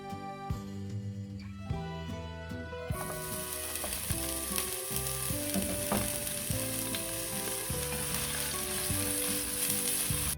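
Garlic sizzling in olive oil in a heated pan, a loud steady hiss that jumps up as the garlic goes in, with clinks and stirring scrapes over it.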